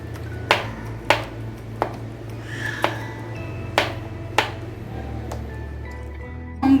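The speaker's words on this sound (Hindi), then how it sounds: "बनाना के भी छोटे छोटे पीसेस कर लेंगे।" A knife chops mango and banana into small pieces on a board, with about eight crisp, distinct knocks at a steady, unhurried pace over a low background hum.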